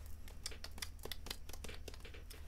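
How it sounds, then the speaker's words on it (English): Rapid, uneven clicking of keys being typed close by, a steady stream of light taps with no voices. "I'll put it closer to the mic so you can hear the tippy taps."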